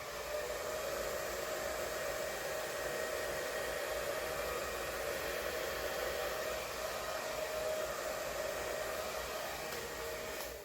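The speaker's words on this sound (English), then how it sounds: "I still may have to blow some more of this paint off." Steady air blower forcing wet house paint and acrylic off a surface, a continuous loud rushing hiss with a faint constant whine, unbroken for about ten seconds with no voices.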